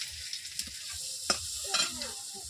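Onions fry in hot oil with cumin in a pan for a Bengali bhola fish curry, a faint steady sizzle broken by a few soft scrapes of stirring.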